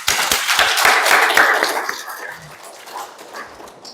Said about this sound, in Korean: 이 시간에 우리 하나님께 힘차게 우리 감사의 영광의 박수 한번 올려드리도록 하겠습니다.